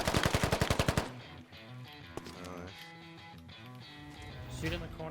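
Automatic gunfire in the tactical shooter game Squad Ops, a fast, loud burst of rapid shots that cuts off after about a second, followed by in-game ambience and music under voices.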